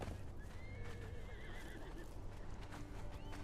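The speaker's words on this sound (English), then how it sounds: "Horsey! How dare you attack Bond?" A horse neighs and whinnies in the Conan Exiles Enhanced Edition survival game, with a long wavering call near the middle over steady game ambience and hoof clip-clops.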